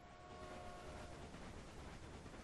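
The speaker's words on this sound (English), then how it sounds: "Two trains running on that line." Trains run on a line in the Railway Empire video game, giving a faint, continuous rolling rumble with a low steady hum and no talk over it.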